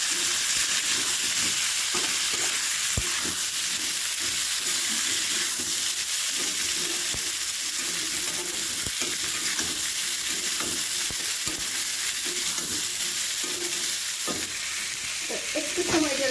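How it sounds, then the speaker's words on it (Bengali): Chickpeas are frying with spices in a pan, a continuous close sizzle under repeated stirring and sharp spatula taps on the pan, with no speech. "আমার বুটটা কিন্তু এবার ভাজি ভাজি হয়ে গেছে।"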